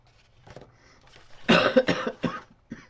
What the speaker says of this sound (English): I'm so used to coughing I hardly notice it anymore.